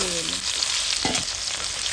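Ridge gourd goes into potatoes already fried red in oil, and a loud, dense sizzle runs steadily throughout. A brief tonal hum comes through near the start.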